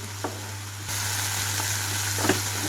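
Fenugreek leaves fry in a pan with a steady sizzle and hiss, louder after a short quieter start, with a few faint stirring scrapes and a low background hum, no speech.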